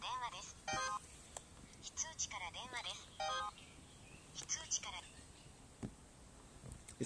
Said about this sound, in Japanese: これですね、ちょっといたずら電話なんですね。